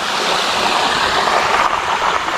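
A river in Tanjung Malim runs as a loud, continuous rushing hiss of water close by, steady throughout with no voices.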